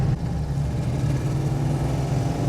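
A Citroen Visa Phase 2 cruises at about 30 mph, its engine a steady low drone with road rumble inside the cabin, even and fairly loud throughout, with no talk.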